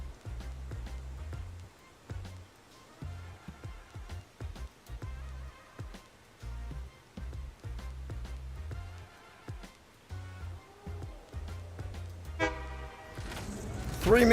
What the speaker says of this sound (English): Wait for the honk.